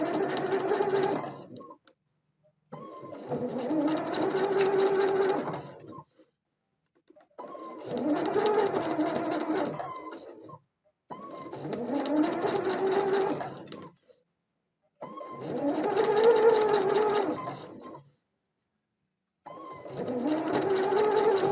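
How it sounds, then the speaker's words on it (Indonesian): Sewing machine running in repeated bursts of roughly two to three seconds with short pauses between, stitching straight quilting lines guided by a ruler, steady and close. "kalian berlatih menggunakan penggaris dan menjahit dengan posisi dari atas ke bawah"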